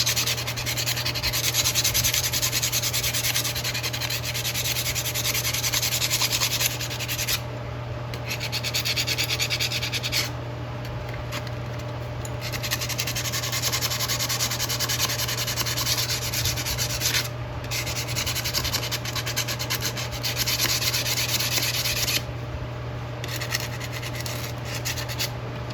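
Sandpaper, 150 grit, rubs back and forth over a rusty metal tool during restoration, making a loud, continuous rasping scrape in long strokes with brief pauses between passes.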